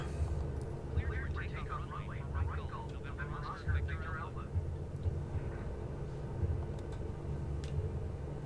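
A Milviz Cessna 310R in Microsoft Flight Simulator rumbles through its takeoff roll with a steady low engine drone, while a radio-style voice talks over it.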